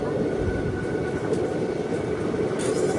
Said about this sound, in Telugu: ఇప్పుడే ఒక ట్రైన్ క్రాస్ ఓవర్ అయితే అవుతుంది మనకి.